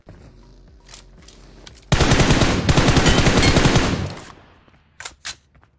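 An M4 rifle sprays in a video game, a sustained loud burst of rapid automatic fire lasting about two seconds, preceded by faint clicks and followed by a couple of short, quieter shots.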